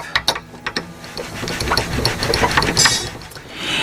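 A tuning peg turning to tighten a steel string on an acoustic guitar makes close, quick ratcheting clicks in uneven runs, then settles into a busier mechanical rattle.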